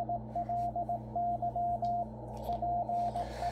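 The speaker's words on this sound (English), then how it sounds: "these are the Morse code bulletins sent at different speeds to actually help ham radio operators learn code" Morse code CW bulletin on the 3581.5 kHz shortwave band, received on a Yaesu FTdx10 transceiver: a steady sidetone keys out rhythmic dots and dashes in two bursts over a low radio hiss and hum.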